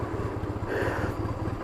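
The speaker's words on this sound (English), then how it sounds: "See that when the engine starts bogging a little bit" Motorcycle engine idling low and close with a rapid steady thump, then briefly loading and bogging as the clutch is eased into the friction zone, before settling back.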